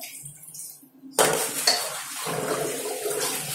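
Fish being washed under running tap water in a sink, with a sudden rush of water and dish and utensil clatter, close and fairly loud, no talk.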